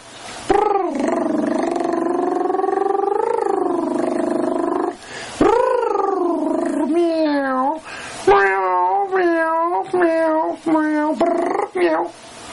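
A cat gives long, drawn-out yowling meows, then a series of shorter, wavering cries, loud and close.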